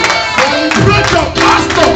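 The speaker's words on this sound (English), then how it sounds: "With a clapping ovation, celebrate your pastor" A church congregation gives their pastor a clapping ovation, a loud, dense burst of crowd applause and cheering voices filling the room.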